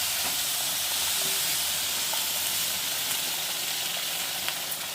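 Hot water poured into a hot pan for pulla upma gives a loud, steady steaming hiss and sizzle that fills the whole stretch without a break.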